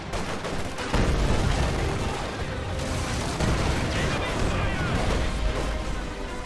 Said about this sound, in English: Detonate the explosives!